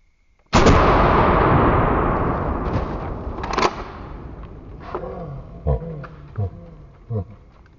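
A Shockwave shotgun fires a single slug: one sharp, loud blast with a long ringing decay, followed by a few fainter clanks and knocks as the gun settles and is handled.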